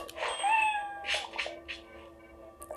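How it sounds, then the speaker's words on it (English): Several cat meows in a row from a lightsaber's built-in sound effects, clear and close, rising and falling in pitch, with no one speaking. "a cat."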